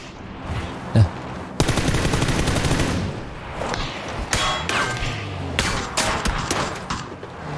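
Gunfire from PUBG: a single heavy thud, then a loud sustained automatic burst followed by scattered shots and short volleys, fairly close, with no talk over it.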